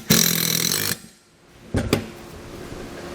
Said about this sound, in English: So I'll grab a 1/2 inch socket and get that done.